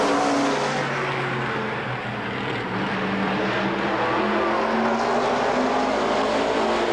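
A pack of race cars roars at the green flag at Rockford Speedway, with loud, sustained engines building and overlapping as they accelerate together at close range.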